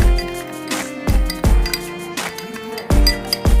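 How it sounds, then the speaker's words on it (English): Chicken stuffing stirred in a bowl with olive oil, a spoon clinking and scraping against the sides in repeated close strokes with brief pauses between them. "give it a good stir"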